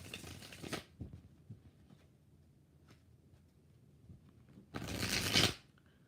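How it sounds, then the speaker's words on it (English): Tarot cards are shuffled in two brisk, close riffling bursts separated by a quiet pause, with no talk. "Four more shuffles for Aqua BB."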